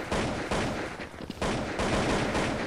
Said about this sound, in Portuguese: o cara dá três tiros e me mata.